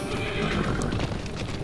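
Horses whinny and neigh with clip-clopping hooves, a busy, steady herd sound of running horses heard up close and fairly loud throughout.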